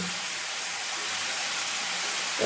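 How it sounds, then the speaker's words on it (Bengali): Cauliflower florets frying in hot oil, a steady dense sizzle and hiss throughout, close and even, with no talking. "দেখুন, ফুলকপিগুলোকে আমি ভেজে নিচ্ছি।"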